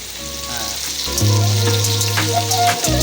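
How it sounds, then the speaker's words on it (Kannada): Onions sizzle and fry loudly in hot oil in a pan while egg rice is being cooked at home, a steady crackling hiss with stirring clatter, and no talking. "ಎಣ್ಣೆ ಕಾದ ತಕ್ಷಣ ಎಣ್ಣೆ ಹಾಕೋದು. ಅದ್ರ ತಕ್ಕ ಮಟ್ಟಿಗೆ ಈರುಳ್ಳಿ ಹಾಕೋದು."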